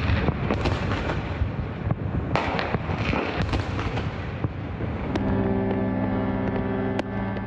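Easter night celebrations over Athens bring a dense, continuous crackle of fireworks and booming bursts from rooftops, with cannon fire from Lycabettus hill. Sustained horn-like tones swell in near the end under the ongoing bangs.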